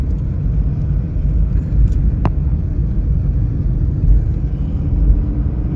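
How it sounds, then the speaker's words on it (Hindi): Light road traffic in Bahria Town, Karachi, rumbles low and steadily from a distance, with no distinct horns and no voices. "कितना ट्रैफिक कम हो गया सुनिए।"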